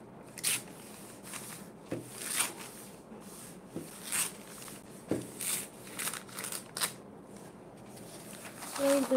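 Scissors cut newspaper into halves in a run of crisp snips and paper rustles, close and quiet, with irregular bursts spread throughout and no talking.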